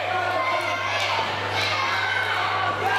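A wrestling arena audience roars and shouts continuously, a steady wall of cheering and chatter with a low hum beneath, no single voice standing clear.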